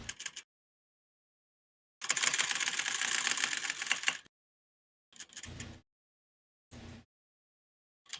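Rapid mechanical clatter of typewriter keys comes in separate bursts: a brief one, a sustained two-second run, then two shorter runs, with silence between and a final click at the end.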